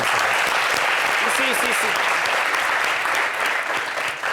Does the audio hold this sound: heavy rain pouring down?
no